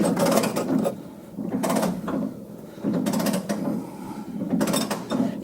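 A bolt being worked into a body lift block at a truck cab mount on a 2006 Chevy Silverado 4x4 gives repeated bursts of mechanical ratcheting and scraping, four rough clusters with brief lulls between them.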